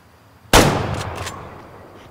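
A single loud rifle shot fired at a red deer in the hunting game Way of the Hunter, a sharp crack followed by a long rolling echo that fades out over about a second and a half.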